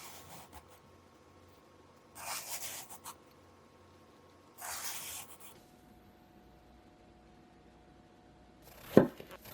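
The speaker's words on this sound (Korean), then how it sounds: "가지의 꼭지 부분은 잘라내고 껍질 부분에 칼자국을 내줄게요." A knife trims the stem off an eggplant and scores its skin: two short bursts of soft rasping cuts, then a sharp single knock near the end, close and quiet.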